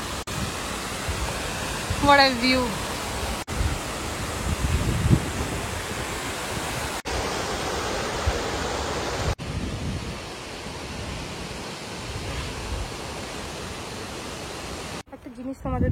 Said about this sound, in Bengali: তোমরা আওয়াজ শুনতে পাচ্ছ কি সুন্দর ঝর্ণার?